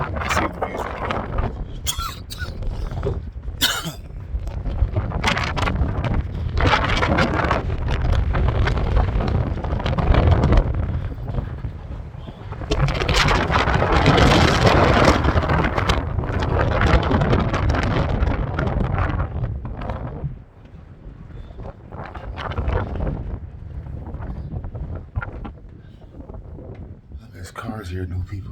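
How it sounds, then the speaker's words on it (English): Strong wind buffets the top of the Knob Fire Tower, a loud, constant roar of gusts against the microphone that runs nearly unbroken, with brief pauses, while a person talks through it. "It's windy up high."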